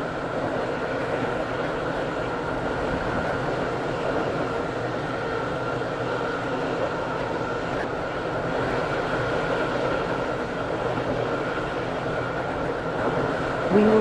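A Roblox train runs steadily, a continuous mechanical rumble and drone held at an even level throughout with no talking.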